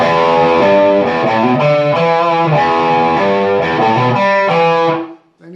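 A distorted electric guitar plays the bridge lick from a song, a steady repeating riff of chugging chords and sustained notes with no talk over it, ending in a fading ring.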